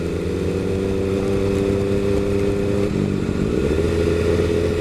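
An MV Agusta F3 800 motorcycle engine drones steadily while being ridden, loud and close with a constant harmonic hum that shifts pitch slightly midway as the rider changes speed.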